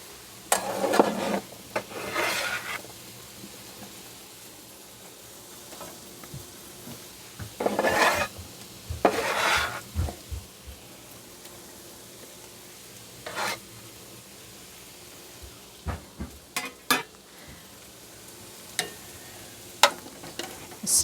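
A spoon stirs potatoes, okra and tomatoes in a soup pot, giving close bursts of scraping and clattering against the metal with quiet gaps between them, ending in a few sharp clinks.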